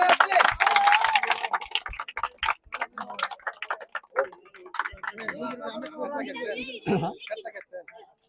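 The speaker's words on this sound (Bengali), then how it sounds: "সবাই হাততালি দিস।" A crowd at a football match billed as Argentina versus Brazil breaks into scattered, quick clapping for a few seconds before it thins out into people talking nearby.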